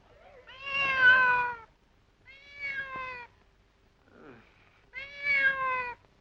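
A cat meows three times, long drawn-out cries close by and fairly loud, separated by short pauses, with a faint soft vocal sound between the second and third.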